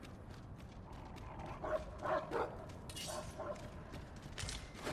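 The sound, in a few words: dog barking in the video game Dragon's Dogma 2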